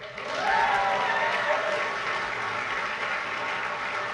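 A crowd at a White House ceremony applauds with dense, steady clapping that swells early and then holds evenly, sounding like a large audience some distance away.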